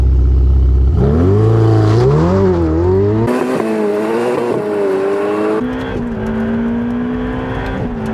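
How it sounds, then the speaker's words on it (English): A car launches hard without launch control, its engine revving loudly and climbing through gears with wheel spin at the start, a close, roaring acceleration with pitch rising and dropping at each shift. "A little bit too much wheel spin at the beginning."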